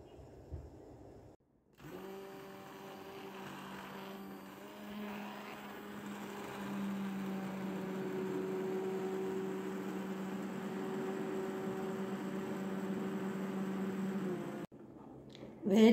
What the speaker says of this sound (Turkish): Şimdi çorbamızı blenderdan çekiyoruz.